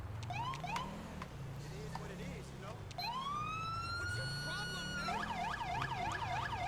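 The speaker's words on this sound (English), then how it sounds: "And I do know that this siren is really freaking annoying" Police car siren in the video game GTA 5 with the LSPDFR mod, cycling through rising wails and fast warbling yelp patterns, loud and continuous over a low engine hum.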